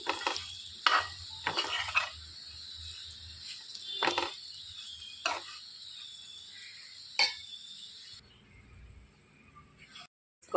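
Stuffed bitter gourd fry being stirred in a pan after chili powder is sprinkled on, with repeated scraping strokes over a steady high sizzle, then a quieter stretch near the end.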